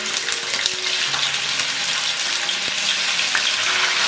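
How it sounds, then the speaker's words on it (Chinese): Marinated fish belly pan-frying in hot oil, a loud continuous sizzle and crackle with occasional spatters close to the pan, no voices over it. "我们来起锅热油，把两面的煎香"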